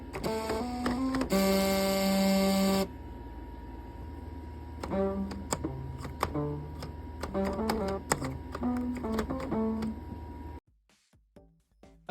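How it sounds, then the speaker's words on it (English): Nintendo Switch Joy-Con rumble motors buzzing out an approximation of the Cascade Kingdom music from Super Mario Odyssey, first on an original Joy-Con then a Joy-Con 2, with steady pitched buzzy tones and choppy note bursts, then near silence at the end. "I am now going to play an approximation of the Cascade Kingdom from Mario Odyssey, and I will do it on the Joy-Con 1, followed by the Joy-Con 2"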